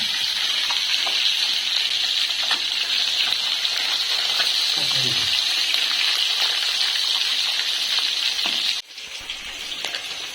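Fish frying village-style in hot oil, a dense continuous sizzle and crackle that stays loud and steady throughout, with a brief dip near the end.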